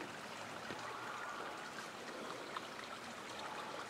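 Clear water running in a small stream at a spring-fed pool in Cajones, Morelos, Mexico, a steady close trickle and babble throughout with no voices.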